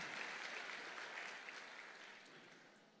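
A church congregation applauds during a sermon with a soft, distant wash of clapping that slowly fades over a few seconds.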